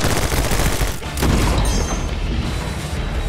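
Rapid bursts of gunfire from the video game My Friend Pedro, loud and dense, with booming blasts layered throughout.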